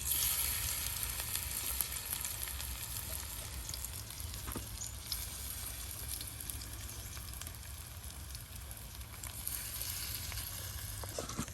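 Malabar spinach flower fritters frying in oil in a traditional home kitchen on a char village riverbank, a steady dense sizzle and crackle running unbroken and fairly loud throughout, with no talk.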